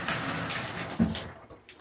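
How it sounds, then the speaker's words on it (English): Tap water runs into a bathtub in a house under renovation, a steady close gushing stream with a brief splashy surge partway through. "We got water. Water in the tub."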